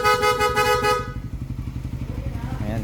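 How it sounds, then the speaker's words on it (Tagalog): A motorcycle horn sounds in a steady, loud honk for about a second during a check of lights and horn after an engine rebuild, then gives way to the low idle of the engine with people talking nearby. "ay patingin ng ilaw tsaka busina."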